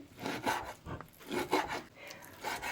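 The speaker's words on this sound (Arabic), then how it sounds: "راح هيك اسوي شرائح يعني، واحاول اقطعهم قطع صغيره على كيفي" Knife cutting beef into small slices on a board, a series of soft rasping strokes with brief pauses between them, close and fairly quiet.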